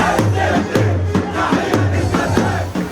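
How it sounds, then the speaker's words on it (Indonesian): A crowd of Palestinian refugees cheers and celebrates, voices rising together in loud, rhythmic chanting bursts that repeat roughly every half second. "Pengungsi Palestina sorak-sorai merayakan pengumuman tahapan pertama rencana perdamaian"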